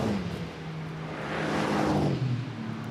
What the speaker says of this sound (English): waiting for the black Mercedes with the white and slightly red markings on its flank